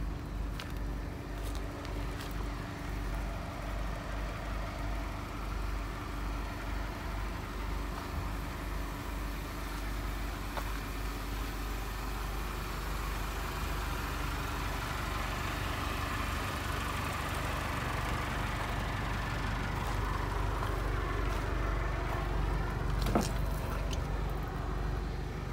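A 2006 Mini Cooper S engine idles steadily at its tailpipe, a continuous low rumble with a slight rise in intensity near the end and no talking.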